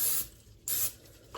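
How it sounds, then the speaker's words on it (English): Cooking spray hisses from a can into a pan for eggs in two short bursts, close and bright, separated by a brief quiet gap, with a faint tail at the end. "Now I'm just gonna give it one more spray for the eggs."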